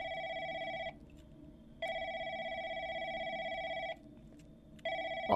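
An electronic telephone bell trills repeatedly in The Lancaster Leak, a call-center horror game, three clear ringing bursts with short gaps between them, loud and alone without voices.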